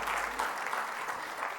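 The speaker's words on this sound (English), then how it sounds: "You can clap for yourselves." Applause from the audience at a national management convention, a brief, even patter of many hands clapping at moderate loudness without any speech.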